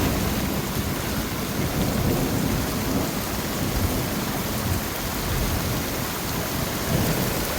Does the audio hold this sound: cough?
no